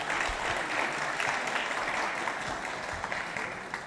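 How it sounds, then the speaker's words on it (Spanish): An audience at an ecclesiastical tribunal gathering claps together in a sustained round of applause, fairly full and steady, tapering slightly toward the end. "Damos un aplauso."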